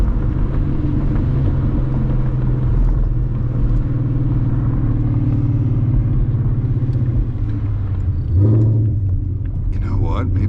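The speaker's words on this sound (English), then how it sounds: "I feel like almost any time I shift, I get like a backfire" 800whp Mustang on a night drive, its deep engine rumbling loud and steady from inside the cabin, with a brief rise near the end as it shifts; no clear backfire pops stand out.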